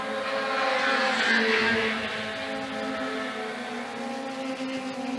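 Toyota Racing Series single-seater race cars at Ruapuna in 2018 sweep past the start-finish line, a loud continuous engine roar with steady harmonic tones that swells and eases slightly, with no talk over it.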